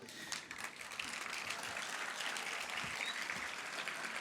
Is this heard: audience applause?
yes